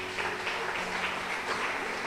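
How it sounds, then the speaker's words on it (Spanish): A church congregation applauds for the King, a short burst of dense, continuous clapping from many hands at moderate distance. "Denle ese fuerte aplauso al Rey."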